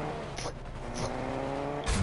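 A car in the Fortnite video game drives and revs, its engine hum running steadily with a few whooshing surges and a louder rev rising at the end, without talk over it.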